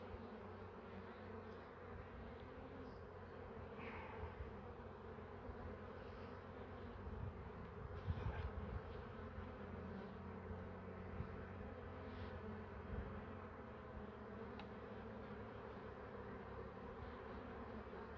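Honey bees from an overwintered swarm colony in Ardahan hum steadily around the hive, a low, quiet and continuous buzz with occasional closer bees drifting past.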